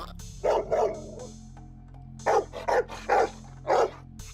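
A dog in the Minecraft video game barks in short bursts, two quick barks followed by a pause and then four more, loud and close with no talking.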